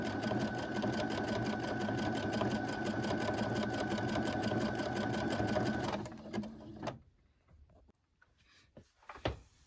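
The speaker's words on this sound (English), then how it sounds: "stitching in the ditch with my end foot" A sewing machine stitches in the ditch through quilt batting and backing, running as a fast, even mechanical chatter for about six seconds before stopping abruptly, followed by a few soft handling clicks.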